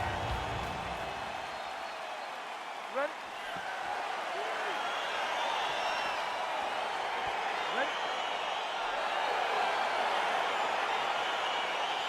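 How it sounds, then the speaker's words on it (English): A UFC arena crowd roars in a steady, broad wash of cheering and noise as a fight gets underway, with a commentator's voice running over it throughout. "crowd getting excited as this fight gets underway"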